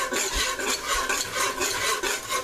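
A whisk scraping around a pan of shrimp etouffee mixture, giving steady, rhythmic raspy strokes about twice a second, close and fairly quiet, with no talking.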